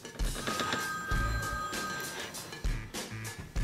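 A phone rings on a noisy set, its steady electronic trill sounding in repeated bursts under background chatter and movement.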